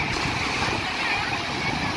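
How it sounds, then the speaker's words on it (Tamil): Big ocean wave rolling in on Varkala Beach, a broad rushing wash of surf with wind buffeting the microphone, loud and continuous over the full moment. "ஒரு பெரிய ஒரு அலை வருது."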